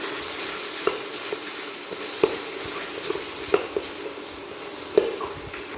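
Masala fries in oil in a pan for egg rice, a continuous sizzle punctuated by regular spatula scrapes and taps against the pan, close and moderately loud.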